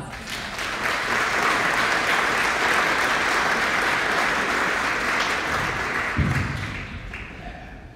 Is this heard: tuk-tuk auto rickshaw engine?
no